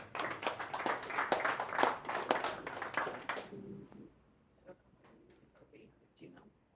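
An audience applauds a speaker at a business presentation, a dense burst of clapping for about three and a half seconds that cuts off abruptly, followed by scattered faint taps and quiet murmuring.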